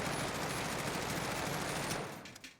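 An M4A1 rifle fires with no recoil in a PS5 shooter, one dense unbroken automatic burst lasting about two seconds before cutting off, loud and close.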